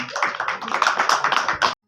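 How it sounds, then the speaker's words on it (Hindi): An audience at a Ramlila stage event in Rodhar claps briefly in a burst of dense, fairly distant applause that stops abruptly. "आपको एक बार जोरदार ताली"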